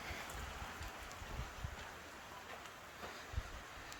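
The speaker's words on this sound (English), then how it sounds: "all of a sudden, caught in the middle of a downpour" A sudden downpour: soft, steady patter of rain falls in the distance, with a few scattered heavier drops tapping nearby over a quiet hiss.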